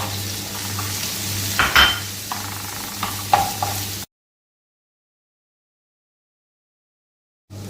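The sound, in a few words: cashews and raisins frying in a pan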